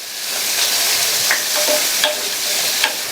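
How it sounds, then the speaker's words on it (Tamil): Chopped onion sautéing in a pan sizzles loudly and steadily, with soft stirring scrapes surfacing now and then. "லைட்டா ஒரு 30 செகண்ட்ஸ் போல வதக்கிக்கங்க போதும்"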